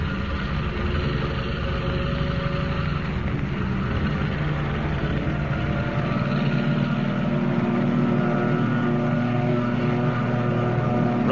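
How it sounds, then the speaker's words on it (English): A seaplane engine roars steadily as the aircraft takes off from the water at night, a loud, continuous propeller drone that deepens toward the end, with no voices. "Rising from the water like some monstrous seabird, the plane roars into the darkness, headed for the open ocean."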